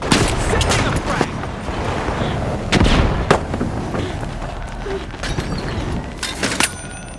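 A frag grenade goes off in the game The Finals amid a busy stretch of gunfire and blasts, with several sharp loud bursts standing out over a constant noisy battle bed.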